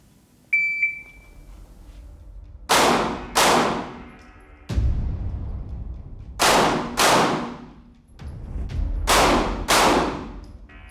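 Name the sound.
gunshots during close quarters shooting training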